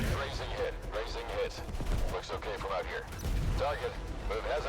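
Tank cannon and gunfire in the mobile game MWT: Tank Battle, with several sharp bursts and booms in quick succession while someone talks over the action.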